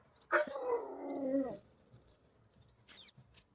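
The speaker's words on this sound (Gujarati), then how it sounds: "કૂતરાને ખીજવાડ્યો" A teased dog lets out one drawn-out, whining howl-like bark of about a second, fairly close, followed by quieter faint chirps and background noise.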